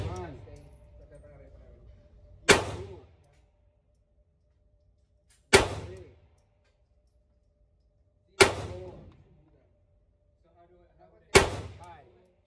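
A Ruger Mark IV Lite .22 LR pistol fires four sharp shots at an indoor shooting range. The shots are evenly spaced about three seconds apart, each a loud crack with a short decaying tail.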